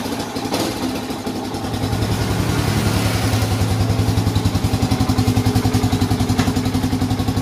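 Yamaha Vixion motorcycle with a sputtering, power-losing fault cranks and starts, then settles into a steady, loud close idle with a fast regular pulsing beat.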